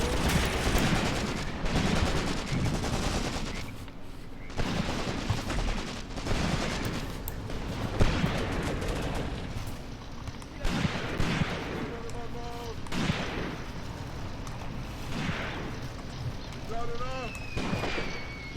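Incoming artillery fire in the WWII tactics game Graviteam Tactics: Mius-Front: repeated booming blasts and crackling gunfire roll on steadily throughout, with someone talking over the barrage.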